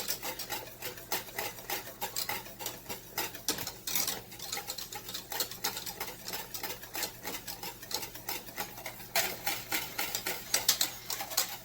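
A whisk beats banana pudding custard in a pot with quick, rhythmic metallic clicks and swishes. The strokes are close and steady, with a few louder scrapes against the pan.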